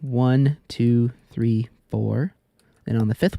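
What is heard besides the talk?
None of the usual background noises is heard.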